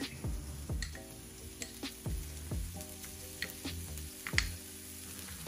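Garlic and parsley toasting in a pan, a soft sizzle broken by repeated scraping and tapping of a utensil stirring at an irregular rhythm, quiet and close.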